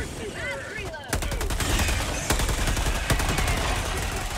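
Automatic weapon fire and explosive blasts from Helldivers 2 combat, a dense sustained barrage of rapid gunshots with sharp booms around the one- and two-second marks, loud throughout after a brief quieter opening with voices.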